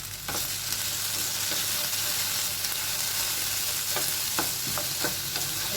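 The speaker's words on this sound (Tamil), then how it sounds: "சேர்த்துட்டு நல்லா கலந்து ஃப்ரை பண்ணிக்கலாம்." Diced potatoes frying with cumin seeds in a hot pan, a steady sizzle running throughout with intermittent scraping clicks from stirring, close and fairly loud with no talking.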